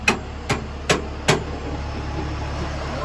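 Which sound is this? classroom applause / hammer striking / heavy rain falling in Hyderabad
hammer striking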